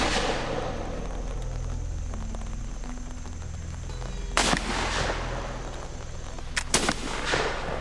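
Black-powder muskets fire at a replica Fort Necessity wooden stockade, two loud booming shots several seconds apart over a constant low rumble of background noise.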